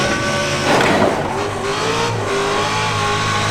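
Simulated race car drifting on a professional racing simulator rig: loud engine revving surges with tire squeal through the turn, followed by a sustained engine drone, steady and close throughout.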